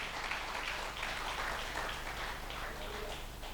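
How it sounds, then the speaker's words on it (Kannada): Sustained applause from a church congregation during an evangelist's sermon, a dense steady wash of clapping that holds at an even level throughout, with no clear voices above it. "Come on, clap man, clap louder."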